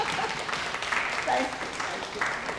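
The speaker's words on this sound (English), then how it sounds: "a big hand of applause for them" Audience applause for panelists and moderators at a Hong Kong women lawyers' Belt and Road seminar: a broad wash of clapping that stays fairly soft, with a voice speaking over it.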